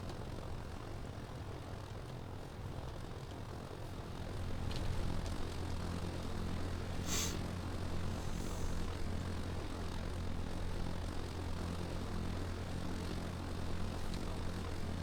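Aircraft engine in the ARMA 3 video game spooling up for takeoff, a steady propeller-like drone that grows louder and fuller partway through and holds, with one brief sharp click, no talk.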